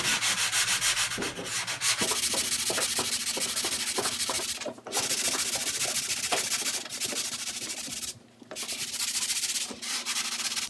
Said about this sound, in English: you're gonna get a sanding block. Just give it a nice sanding.